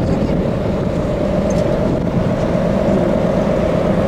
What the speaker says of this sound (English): Even with the ferry churning,